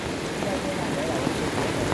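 Steady heavy rain pours without a break, a dense even hiss that fills the whole stretch at a constant level, with no voices standing out above it.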